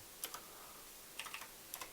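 Light typing on a computer keyboard, a few soft clicks in two short clusters, close but quiet over a faint background hiss.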